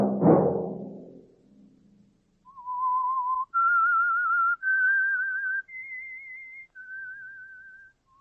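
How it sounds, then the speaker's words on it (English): A lone whistler carries a slow, wavering tune of several sustained notes, the signal theme of a 1947 radio drama, clear and close, after a brief low rumble fades out. "Let that whistle be your signal"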